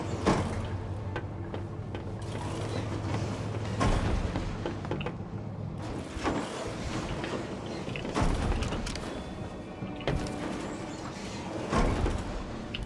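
A door mechanism in a video game grinding and creaking open, with sliding scrapes and mechanical clunks recurring over about thirteen seconds against a dense, steady background.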